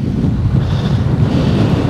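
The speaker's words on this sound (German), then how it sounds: "Alter, ist ein Wind heute." Strong wind on a hilltop near the 3000 m summit batters the microphone with a continuous loud, gusty roar and rumble, with no talking.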